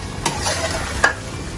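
Chicken coated in homemade biryani masala fries in a pan, a quick burst of sizzling with two sharp scraping stirs, close and fairly loud, no voices.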